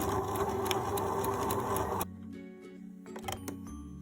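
A sewing machine stitches across a bound buttonhole with a short stitch length, a dense close whirring burst for two seconds that then stops, leaving faint clicks and handling noise.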